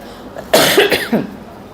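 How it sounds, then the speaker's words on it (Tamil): A single close cough bursts out, followed by a smaller rough cough, with quiet room tone around it. "லேசாக இருமல் வர மாதிரி இருக்குது"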